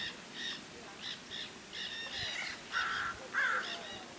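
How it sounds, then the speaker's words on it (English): Several ravens give harsh, croaking calls in a series of separate bursts that grow louder toward the end, with no talking. "This is the only place that I've ever run across ravens that sound like this."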